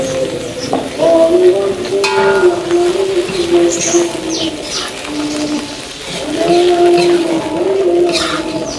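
Sliced shallots fry and sizzle in a hot pan, a steady crackle with stirring, while an insistent cooing of doves carries through from nearby.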